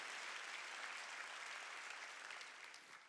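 A congregation claps together during a Wednesday church worship service, producing dense, steady applause that sounds distant and faint before tapering slightly at the end.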